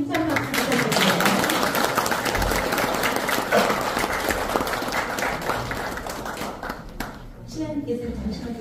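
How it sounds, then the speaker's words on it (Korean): An audience at a community gathering in a Korean township claps loudly and steadily as flowers are presented, the dense applause fading and then picking up again toward the end, with some voices mixed in. "힘찬 박수 부탁드립니다"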